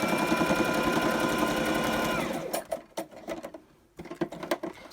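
A sewing machine stitches straight quilting lines across a tote bag, running in a loud, steady rapid patter for a couple of seconds, then breaking into short stop-start bursts with small clicks and pauses.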